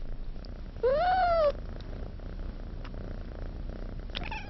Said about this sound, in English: These kittens have all they need to grow and flourish.